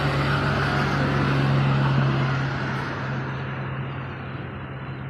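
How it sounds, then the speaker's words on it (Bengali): Road traffic rolls past in the afternoon, a steady engine drone and tyre roar with a low hum, loud at first and then easing slightly as the vehicles pass. "গাড়িগুলো কিভাবে যাচ্ছে!"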